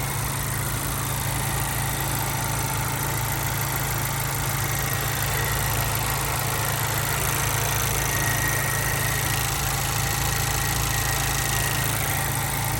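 The 1.5-liter turbocharged four-cylinder of a 2023 Acura Integra with a 6-speed manual idles, a steady, even low rumble with a constant hum throughout and no talking.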